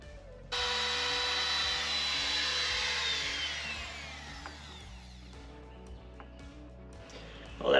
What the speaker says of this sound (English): So I'm gonna have to freehand it, and I'm not very good freehanding routers because I don't do it much.